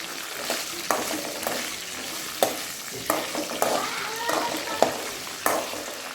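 Chopped okra is stirred as it fries in a pan, a continuous sizzle with periodic scraping strokes of a spatula, close and fairly loud, no speech.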